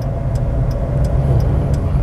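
Car engine accelerating during a Korean driving lesson, a steady low rumble with an even drone throughout and faint periodic ticks, heard from inside the cabin.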